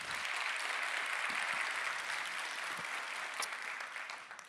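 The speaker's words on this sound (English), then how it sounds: "If you trust Uber the most, clap now." A conference audience claps steadily in a hall, a dense, even wash of applause lasting throughout, moderately distant and without any talking.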